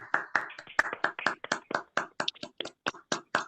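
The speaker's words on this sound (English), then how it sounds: "give Victor an old-fashioned round of applause" A small group clapping over a video call, sharp uneven claps in a steady burst that sounds slightly thin and compressed, with no voices.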